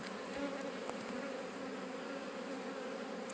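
Honeybees at a hive drone in a dense, continuous buzz, loud and close, a steady swarm hum with no voices over it.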